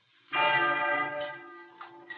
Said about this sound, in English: The bell of doom.